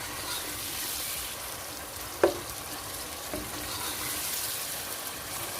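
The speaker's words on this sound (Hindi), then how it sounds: "इसको 2 से 3 मिनट तक इसको भी भूनेंगे जब तक इसकी स्मेल ख़त्म हो जाएगी।" Spices fry in a pan for daal, a steady close sizzle running throughout, broken by two sharp stirring knocks of a utensil against the pan, with no talk.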